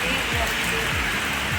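Heavy rain falls at Akbarpur market in Ambedkar Nagar as a dense, continuous hiss, close and loud, with a few low vehicle sounds beneath.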